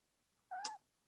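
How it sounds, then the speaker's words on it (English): A domestic cat gives one short, clear meow close by, with no other sound around it. "Oh, my cats are here."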